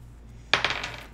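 Dice tumble onto a table during a prison-escape board game, a sharp first clack at mid-clip followed by several quicker rattling bounces that fade out, close and alone over a quiet room.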